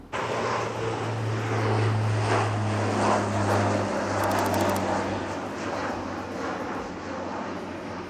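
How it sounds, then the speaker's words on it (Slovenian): Small propeller airplane engine droning steadily and loudly up close throughout, a constant hum with a low tonal whine, heard from inside the aircraft with no talk. "S telim res majhnim frčoplanom na propelerje."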